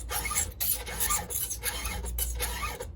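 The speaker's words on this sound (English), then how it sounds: "Just go until you can hear it go across this hard steel." Hand file rasping across the hard steel of a Husqvarna chainsaw chain during square filing, in a series of rhythmic scraping strokes with brief pauses between them, close and steady with no talking.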